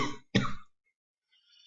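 A person coughs twice, close and fairly loud, with a brief pause between, followed by near silence and a faint rising hiss at the end.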